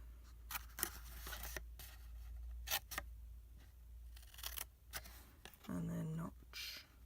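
Scissors snip through card while making an embossed gift box, a run of crisp, close cutting clicks spaced unevenly, with brief quiet talk between them.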